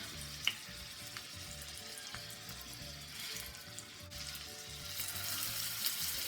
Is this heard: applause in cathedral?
no